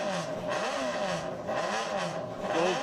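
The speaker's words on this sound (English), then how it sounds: "This is a sidecar motorcycle running on fuel." 2008 Honda four-cylinder sidecar motorcycle racing on the El Mirage dry lake, its engine droning with rising and falling pitch sweeps, heard from a distance over steady background noise.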